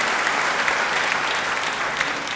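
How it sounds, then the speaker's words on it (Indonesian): A church congregation applauds during a service, steady dense clapping from many hands filling the room evenly, with no voices rising above it throughout. "Beri tepuk tangan yang baik bagi dia."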